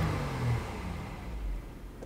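A 2016 Honda Pilot engine with a rough-running fault and high idle speed idles close by, a steady low rumble with slight fluctuations and no talking.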